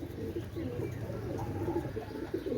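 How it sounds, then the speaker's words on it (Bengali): A Pakistani Kamagar pigeon coos in soft, repeated low warbling phrases, fairly close against a quiet background hum. "এটা হচ্ছে পাকিস্তানি কামাগার কবুতর"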